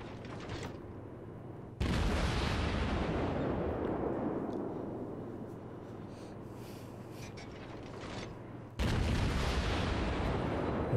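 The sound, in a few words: warship guns firing shells in World of Warships video game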